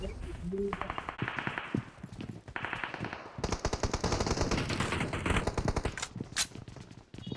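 Rapid automatic gunfire in a battle royale video game, long dense bursts that stutter and then rattle on continuously, loud and close, while players talk excitedly over the shooting.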